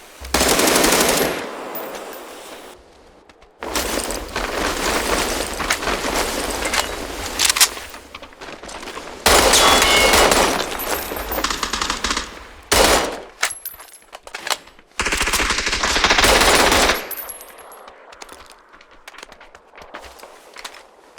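Gunfire in the battle royale game PUBG, long loud bursts of automatic rifle fire broken by short pauses and single shots, with footsteps between volleys and no talk heard.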